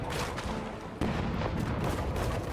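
Ship cannons fire in a naval battle in the pirate video game Rogue Waters, a dense rumbling barrage of booms with a sharp new blast midway, loud and continuous.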